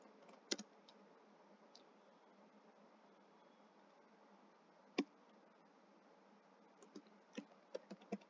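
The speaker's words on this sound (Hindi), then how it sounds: "तो उसके लिए सबसे पहले टाइप करना शुरू करते हैं।" Typing on a computer keyboard while entering a short JavaScript test script: faint, scattered key clicks over steady hiss, with a few sharper taps and a quick burst of keystrokes near the end.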